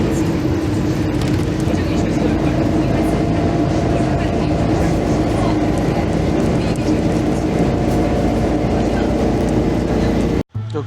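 Steady rumbling and rattling inside a moving train, with a continuous low drone and clattering, ending abruptly with a brief cut.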